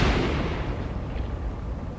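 Thunder from a thunderstorm in the horror video game The Evil Within, a loud, sustained rolling rumble that starts strongest and stays heavy and broad for two seconds, with no voices over it.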